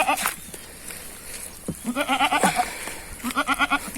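Goats bleat repeatedly in a close, loud run of calls on a free-range field farm where a doe is about to give birth, with several cries clustered after a brief opening burst.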